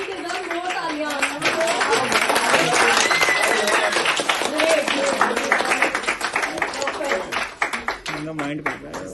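Audience applause in a public speaking and confidence session, a dense clapping burst mixed with voices and cheering that thins out toward the end, leaving scattered individual claps.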